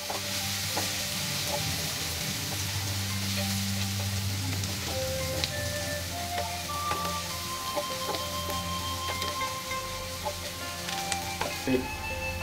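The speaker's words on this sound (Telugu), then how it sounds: "వీటన్నిటిని చక్కగా ఫ్రై చేసుకుందాం." Onions with curry leaves, turmeric and spices frying in a pan for aloo kurma: a steady close sizzle with scraping stirs and small clinks throughout, no talking.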